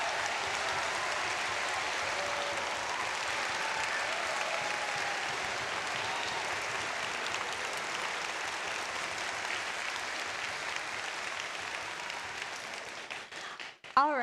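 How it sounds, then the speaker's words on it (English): Sustained applause from an audience at a robotics district competition, honoring student leaders nominated by their teams; steady broadband clapping holds for about fourteen seconds before cutting off abruptly at the end. "let's give a round of applause for all of these students who are nominated by their teams"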